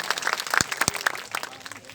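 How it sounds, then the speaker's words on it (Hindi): Audience at a university farmers' fair applauding to welcome a guest, a brief burst of dense clapping with a few sharp individual claps standing out, close and fairly loud. "जोरदार तालियों से एक बार सब लोग उनका स्वागत करेंगे।"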